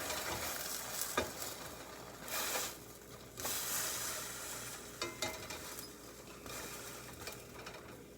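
A grilled cheese sandwich frying in a pan sizzles steadily nearby, broken by a few scrapes and thuds as a spatula turns it over.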